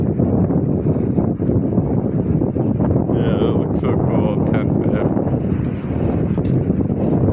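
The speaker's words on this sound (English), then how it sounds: "It's a bit windy for up here, especially up here." Strong mountain wind buffets the microphone throughout with a steady low roar, while a person talks briefly over it.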